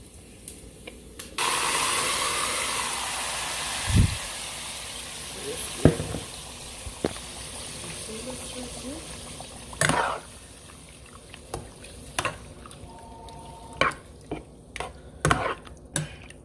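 Beef kidney frying in a pot, a soft steady sizzle broken by sharp clanks and scrapes of stirring, with intermittent louder spits and bangs.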